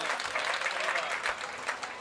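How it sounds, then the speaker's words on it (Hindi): Applause from an audience at a Hindi poetry gathering, a dense, steady patter of many hands clapping at moderate volume that continues throughout. "एक बार उनके सम्मान में आप तालियां बजाएं।"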